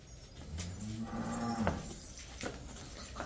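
A cow lets out one long, low moo, heard clearly over a faint outdoor background with a few soft knocks.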